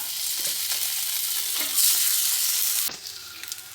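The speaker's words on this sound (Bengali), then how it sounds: "এইবার এইগুলো এইভাবে একটা একটু করে বসিয়ে দেব দিয়ে হালকা করে একটু ভেজে নেব" Pieces of a vegetarian breakfast dish lightly frying in a pan with mustard seeds, a loud, dense hiss of sizzling oil that flares briefly, then drops sharply and settles into a quieter crackle with a few soft taps.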